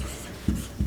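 Short marker or chalk strokes on a board during an English grammar lesson, two brief scratchy bursts close by with a quiet room in between.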